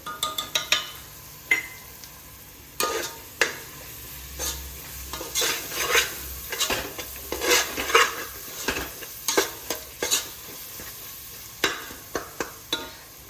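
Chicken biryani masala with garam masala and biryani powder fries in a pot, with a soft sizzle under irregular scraping and clinking as a utensil stirs against the metal.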